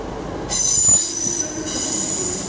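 Class 150 diesel train, unit 150122, arriving at platform 4 at Bristol Temple Meads, with loud sustained wheel squeal over the rumble of the rolling train, heard close from the platform with no talking.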